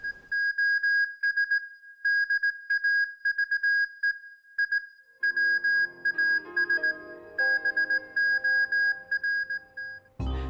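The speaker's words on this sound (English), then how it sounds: "In the first trailer, a Morse code plays with the accompanying text" Morse code from the Space Dave video game trailer: a steady high-pitched tone keyed in rapid short and long pulses, loud and close. Soft music rises beneath it partway through, and it ends in an abrupt, loud noise burst.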